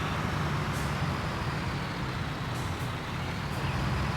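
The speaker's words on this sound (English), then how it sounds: "the engine on this truck isn't quite as good as it should be" A truck engine in the video game Construction Simulator runs at a steady, droning idle, a constant low rumble with faint hiss and no change in pace.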